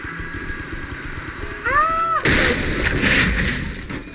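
A weapon test-fired in a video game gives one sharp, loud blast followed by a ringing tail; a brief rising electronic tone comes just before it.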